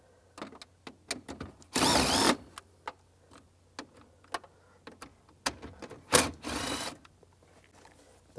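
A 7mm socket removes screws inside the dash of a 2002-2009 Chevrolet Trailblazer, making quiet ratcheting clicks and taps in short bursts, with two louder whirring spells in between.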